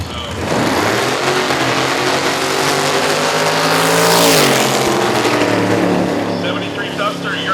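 A 1973 Mopar Duster drag car launches down a quarter-mile strip, its loud engine roaring steadily and climbing in pitch, with a brief swell midway and no talk over it.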